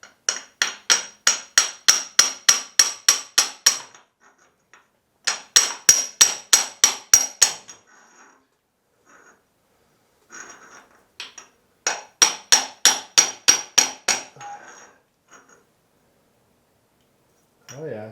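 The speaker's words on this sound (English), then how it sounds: "Let me get a little hammer and try tapping it in." Claw hammer tapping an input shaft seal into a Case 1394 Hydrashift tractor housing: three bursts of about ten sharp, evenly spaced metallic taps each, close and loud, separated by pauses with faint handling noise.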